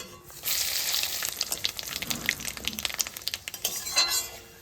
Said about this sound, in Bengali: এই যে কালো জিরে শুকনো লঙ্কা তেজপাতা ফোড়নে